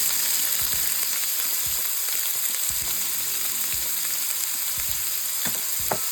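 Cumin seeds and finely chopped onions frying in a hot pan, a steady close sizzle with crackling pops and occasional stirring scrapes throughout.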